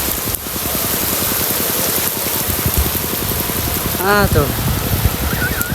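Steady rain patters across a rice farm in a village during planting season, a dense hiss running throughout, while a person speaks briefly over it.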